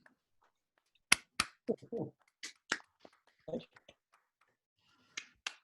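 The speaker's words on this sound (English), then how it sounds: "you can turn on your mics to clap for Graham" Remote listeners of an online physics talk on dark matter unmute to applaud, giving sparse, scattered single claps of uneven loudness through their microphones, with brief gaps of near silence between them.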